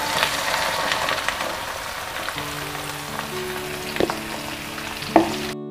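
Ridge gourd is stirred and fried in a pan with garlic-ginger paste and turmeric, a soft steady sizzle with a few sharp clinks of a spoon against the pan near the end.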